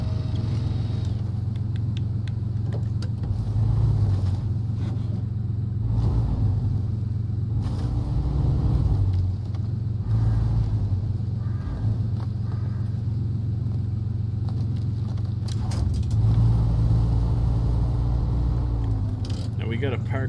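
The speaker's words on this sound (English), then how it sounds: "Let's stop the engine." In the SnowRunner video game, a truck's engine drones low and loud as it struggles up a steep grade. The rumble is steady and strained, with occasional mechanical clunks.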